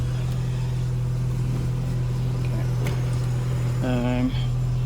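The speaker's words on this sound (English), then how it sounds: "Starts very easily. It's got an exhaust leak." A Seat Ibiza engine with an exhaust leak idles steadily with a low, even drone, while someone talks over it near the end.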